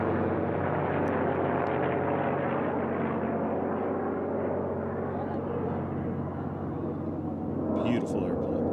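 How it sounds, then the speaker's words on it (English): Sea Fury racing airplane in an Unlimited class air race, a loud, steady propeller-engine roar that fills the whole stretch with only slight swells in tone, with a voice commentating over it. "Race 114 Argonaut and the Sea Fury."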